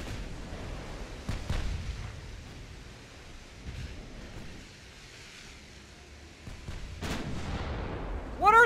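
Battleship naval guns in a game of Ultimate Admiral Dreadnoughts fire a few scattered booms over a low ocean and wind backdrop, fairly faint and distant, ending with a sharper burst.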